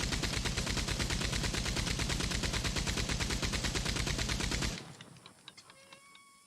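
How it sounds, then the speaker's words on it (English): Gatling gun in Red Dead Redemption 2 firing a long, relentless stream of rapid, evenly spaced shots, loud and close, then cutting off abruptly into a few fading echoes. "These Gatling guns are infinite ammo, and you never have to use reloading."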